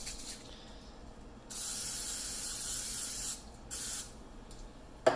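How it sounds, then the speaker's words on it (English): Two hissing bursts of cooking spray onto a pan, a longer one then a short one, against a quiet background, ending with a faint click. "I'm going to use some of this cooking spray."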